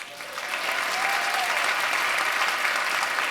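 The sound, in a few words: audience applause for a couple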